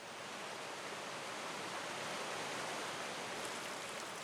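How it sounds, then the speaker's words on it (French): The Durance, a small mountain stream near its source in the Hautes-Alpes, rushes with a steady, even broadband wash of flowing water, close and continuous, with no voices. "la Durance n'est qu'un petit ruisseau lorsqu'elle rejoint son premier affluent"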